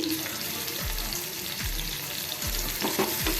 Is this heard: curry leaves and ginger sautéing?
yes